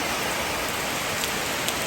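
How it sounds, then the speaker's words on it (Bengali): Heavy monsoon rain falls steadily onto surfaces where water has pooled behind a house, making a dense, loud, even hiss of countless drops with no pauses. "আকাশ ফুটো হয়ে গেছে একবারে ঝমঝম করে বৃষ্টি হচ্ছে"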